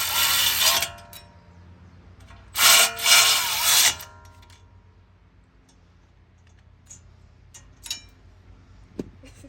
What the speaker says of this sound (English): this is not an impact, this is just a ratchet